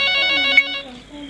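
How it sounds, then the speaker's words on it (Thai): An incoming-call ringtone plays on a phone sitting near a microphone during a live stream from a temple in Chiang Mai, a steady melodic electronic tone with stacked harmonics that fades out after about a second. "มีสายเข้านะครับ"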